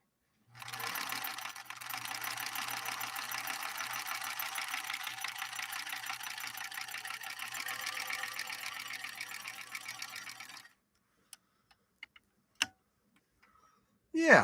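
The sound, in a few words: Bernina 125 sewing machine stitching a column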